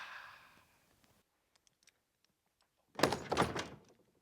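A door in the Screw'd video game: a faint rumble fades out, then after a quiet pause with small clicks the door lands in one loud, close thud with a short rattling tail.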